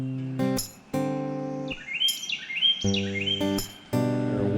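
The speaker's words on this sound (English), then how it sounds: "Maybe some birders out there will know what bird is singing to me." A songbird sings close by along the Boardwalk Loop Trail in Congaree National Park, with short rising whistled phrases repeating over several seconds, between bursts of other loud harmonic sounds.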